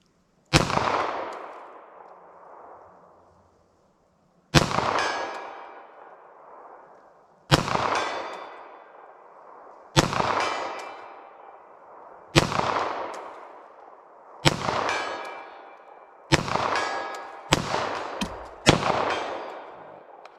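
Nine distinct 9mm pistol gunshots firing full metal jacket rounds at a 75-yard target outdoors, loud sharp cracks with echoing decay, spaced a few seconds apart then quickening toward the end.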